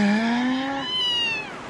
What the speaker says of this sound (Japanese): その猫ジャガー猫でしょ？